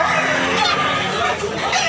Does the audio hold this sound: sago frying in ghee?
no